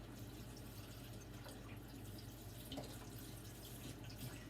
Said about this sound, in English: it must be time to put in my broth